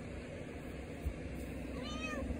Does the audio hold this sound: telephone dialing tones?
no